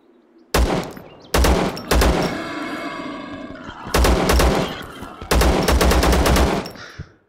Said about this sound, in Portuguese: você dá tiro de AK na cara do porco